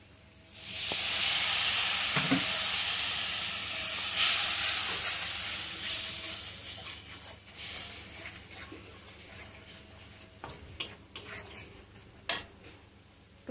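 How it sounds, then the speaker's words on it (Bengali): Spices with cumin powder fry in a pan, starting with a loud steamy hiss that slowly fades. Scattered scraping and clinking stirring strokes come later, close and without talk. "এবার সব মশলাগুলো একসঙ্গে কষে নেবো"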